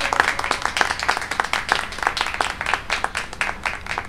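Loud, dense applause from an audience at a school felicitation ceremony, many hands clapping continuously and unevenly with sharp overlapping claps throughout.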